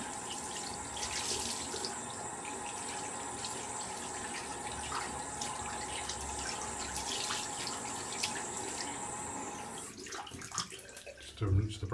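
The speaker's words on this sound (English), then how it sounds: "Just to rinse the brush out there." A synthetic shaving brush with a 26mm plus-soft Razorock Big Bruce knot is rinsed under a running tap, producing a steady close splash and trickle that grows more broken and louder toward the end.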